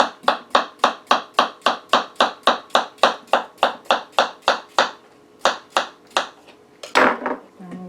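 A knife slices a peeled cucumber thinly on a board in a quick, steady run of crisp chops, about two per second. It pauses briefly, resumes with a few more cuts, then ends in a louder clatter.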